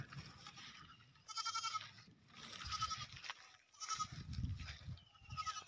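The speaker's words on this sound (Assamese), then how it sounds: "এটা খাসী এটা আছে মোৰ পথাৰত" A local goat bleats repeatedly in an open field, with several drawn-out, fairly close calls spaced through the stretch over quiet outdoor background.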